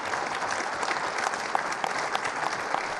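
Sustained applause from an audience at a PTI lawyers convention, many hands clapping densely and steadily at moderate distance, with no speech over it.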